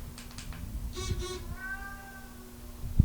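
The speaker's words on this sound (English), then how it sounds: "I wonder if you guys can hear Greg meowing from the outside" A pet cat named Greg meows from outside in a few short, faint harmonic calls, muffled and distant, with low background rumble and no talk.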